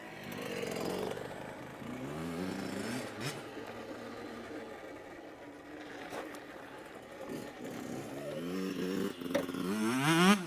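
A Yamaha YZ65 dirt bike engine revs and drops repeatedly during wheelies, its buzzing two-stroke whine rising and falling in pitch over a continuous outdoor rumble at a moderate distance.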